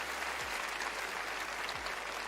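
Steady applause from a studio or live audience, dense and even throughout for a couple of seconds with no voices standing out.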